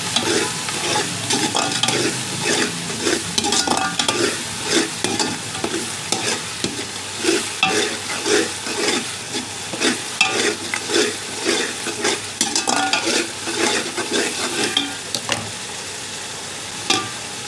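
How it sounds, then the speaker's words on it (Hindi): Beef pulao masala frying in a pot with salt and biryani masala, loud continuous sizzling under rhythmic spoon scraping and stirring strokes, close and busy throughout. "हल्का इसको भी भून लेंगे।"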